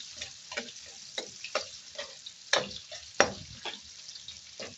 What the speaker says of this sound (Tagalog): natin lang muna itong i-saute ng ilang minuto